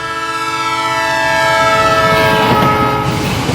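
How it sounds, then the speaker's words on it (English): A passing train blows its whistle loudly and close by, one long sustained multi-tone blast whose pitch shifts as the train goes by, with rumbling rail noise underneath. "So when the train is coming toward you, you hear a high-pitched whistle"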